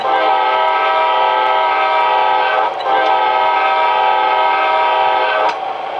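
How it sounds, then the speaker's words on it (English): An HO scale Athearn Amtrak Genesis model locomotive horn through a high-bass speaker sounds loud and sustained, a rich multi-tone chord held for several seconds with two brief dips in between. "here's the 803's horn with the high bass speaker"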